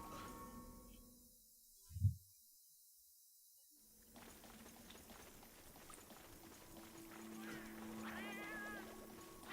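A Melynx cat in Monster Hunter Generations Ultimate gives a single short, high meow near the end, over a low game ambience hum that follows an earlier dull thump.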